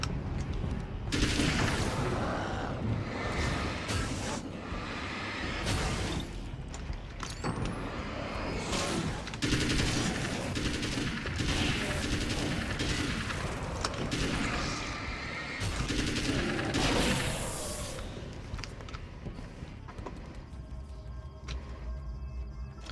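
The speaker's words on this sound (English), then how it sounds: "Assault rifle." Assault rifle fire in the horror shooter Alan Wake's American Nightmare, loud repeated bursts blending into a dense wash of action noise that runs almost the entire time before easing off near the end.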